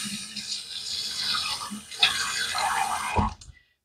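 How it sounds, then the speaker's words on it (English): Tap water runs steadily into a sink while a face is wetted before a wet shave, a close splashing wash that shifts as hands move through the stream and then cuts off abruptly near the end. "So let me wet the face."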